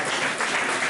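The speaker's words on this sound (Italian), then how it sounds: "Grazie, un applauso." Audience applause at a nativity scene award ceremony in Fasano, a brief, even wash of clapping heard alone for about a second.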